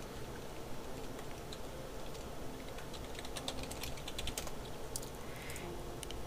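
Computer keyboard typing of a file name, soft irregular key clicks in a short cluster over a steady background hum, with no talk.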